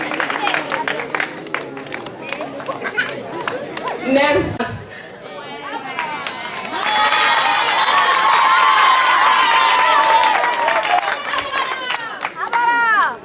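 An audience at a parish Annunciation feast evening applauds and cheers for someone: a crowd's clapping and excited voices swell into sustained cheering, with chatter and a brief spoken word mixed in.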